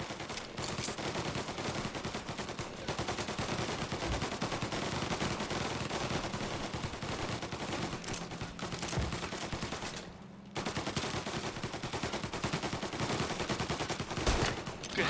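Sustained automatic gunfire and rapid shots in the video game Mafia: Definitive Edition, dense and loud almost throughout, with a brief lull before the firing resumes.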